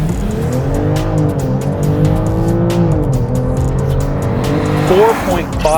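A 2024 BMW X5 plug-in hybrid pulls under hard acceleration, its engine note rising steadily from inside the cabin, with a brief tire chirp near the end.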